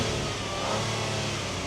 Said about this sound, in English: Now listen to that engine.